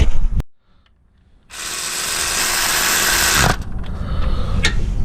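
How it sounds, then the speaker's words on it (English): Power tool bolting a starter into a 2007 Chevy Cobalt 2.4, a brief clank, a pause, then a continuous high whirring run of about two seconds followed by lighter clinks and rattles, no talking. "So I'll bolt it in, make sure everything is tightened up."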